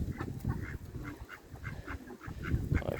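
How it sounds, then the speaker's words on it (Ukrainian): Wild ducks on a small farm quack in short repeated calls, faint and somewhat distant, mixed with low background rumble and overlapping flock chatter. "Немає нічого важкого в розведенні диких качок"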